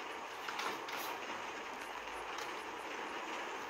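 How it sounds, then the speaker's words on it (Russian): A Moscow metro train rumbles steadily along, a continuous broadband roar with faint rattling, no voices. "Наш поезд приближается к легендарной станции метро Бородинская"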